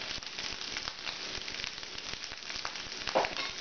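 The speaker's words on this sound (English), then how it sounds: "So, now we're gonna saute our rice, fry our rice for a little while" Cooked rice fries in oil in a pan for Japanese vegetarian fried rice, a soft, even sizzle with light crackles and occasional stirring scrapes at low volume.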